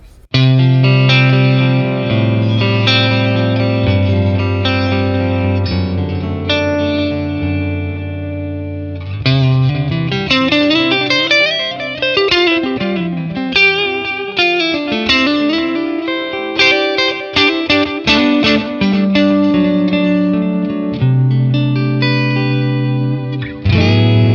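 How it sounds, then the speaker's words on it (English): Electric guitar run through a ping-pong tape echo with raised feedback, sustained chords and then busy melodic picking, each note trailing repeating echoes that bounce and smear together, loud and continuous with no talking. "let's use the ping pong and increase the feedback a tiny bit more"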